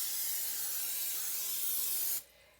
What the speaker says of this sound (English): So I'm going to go ahead and spray these right now.